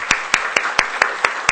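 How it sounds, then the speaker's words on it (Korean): A church congregation claps in rhythmic unison, seven sharp, evenly spaced beats over a steady wash of scattered clapping, fairly loud and close, with no talk over it. "우리 임태형제에게 고마움의 박수를 드리고 싶습니다"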